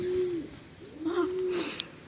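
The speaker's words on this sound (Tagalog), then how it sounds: "It's a dove." A dove coos nearby in low, soft hooting phrases, two drawn-out calls separated by a short pause, with faint background noise.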